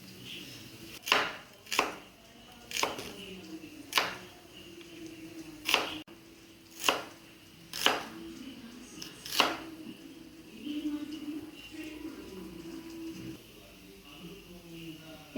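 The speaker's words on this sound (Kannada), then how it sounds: "ಇತ್ತ ಒಂಜಿ ನೀರುಳ್ಳಿ ತಂದು ಕಟ್ ಮಲ್ಪೇರೆ" A knife chopping onion on a board for a Mangalorean clam curry, eight sharp, evenly spaced chops close by over a quiet room, followed by softer handling noise.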